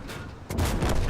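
An Object 140 tank's cannon fires in World of Tanks, a single loud, close blast that booms and lingers to the end.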